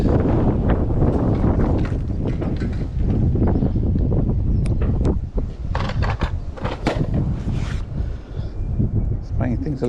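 Gusty wind buffets the microphone beside the River Thames during a fishing club match, a continuous low rumble with irregular bursts and rustles, close and loud.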